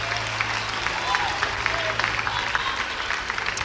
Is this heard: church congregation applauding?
yes